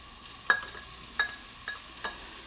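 Asparagus and onion sauté in butter in a hot pan, with a low steady sizzle broken by four sharp spatula scrapes and taps at roughly even intervals, close and fairly quiet.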